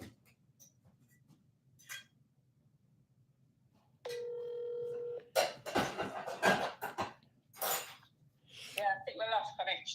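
Telephone line tone while a dropped call reconnects, a steady electronic tone of about a second, followed by clicks and a person talking.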